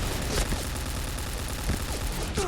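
Rapid gunfire from a gun in a shooting video game, a dense steady burst of shots running the whole stretch at close range, with no one speaking over it.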